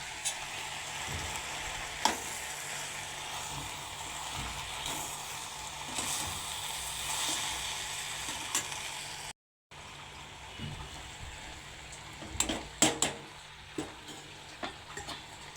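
Chopped tomatoes with chili powder frying in a pan, a quiet continuous sizzle with occasional stirring knocks and scrapes, a brief gap midway, then a few sharper clatters near the end.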